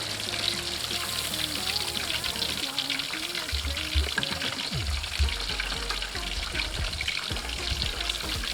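Saltwater catfish fillets frying in hot oil, a steady dense sizzle running throughout with occasional stirring and a few low clunks, close and fairly loud with no talking.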